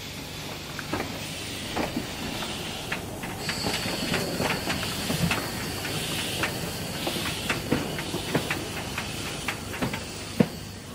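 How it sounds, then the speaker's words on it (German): A narrow-gauge steam locomotive on the Pressnitztalbahn moves up to the front of its train in summer, with steady steam hiss, scattered metallic clanks and squeals, and a sharp knock near the end, heard at moderate distance without talk. "kann die Lok sich für die Rückfahrt wieder vor den Zug setzen"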